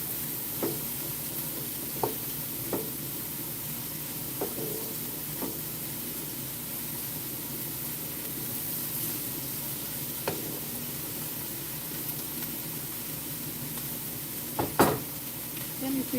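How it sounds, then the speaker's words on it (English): Chicken frying in a pan in a home kitchen gives a soft, steady sizzle throughout, with a few sharp clicks and taps of utensils scattered across it. "Let me quickly check on the chicken and see how nice it's frying."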